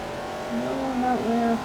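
Race car engine in Forza Motorsport 4 humming at a steady pitch, rising slightly midway with a brief shift dip, continuous and moderately loud, with no talk.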